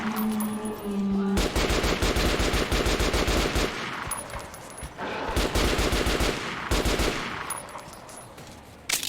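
RPK machine gun fire in Metro Last Light Redux, rapid sustained bursts of loud automatic shots in several long strings separated by brief pauses, close and dominant.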